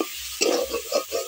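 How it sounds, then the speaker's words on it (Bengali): Spices and mussel meat stir-fried together in a pan, with steady sizzling and a few distinct scraping strokes of a spatula, close and moderately loud with no talking. "এখন আমি সবগুলো মশলাকে একসাথে মাংসের সাথে ভালো করে কষিয়ে দেব।"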